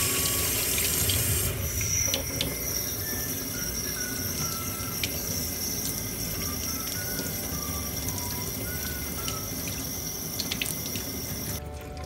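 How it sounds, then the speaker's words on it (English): Warm tap water runs steadily while a used fashion doll's hair is rinsed under it, a continuous splashing rush with occasional drips and shifts as the hair moves through the stream, no talk. "And then again, rinse with warm water."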